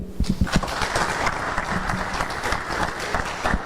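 An audience at a diocesan conference of Knights of Columbus grand knights applauds the state deputy, opening with a few distinct near claps and then swelling into steady, dense clapping.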